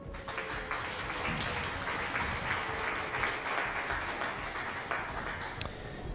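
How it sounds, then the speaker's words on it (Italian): Studio applause effect played by the production booth during a live stream, a steady wash of clapping that runs on evenly at moderate volume. "Una scuccatella di mani a Moreno, vai regia, applausi"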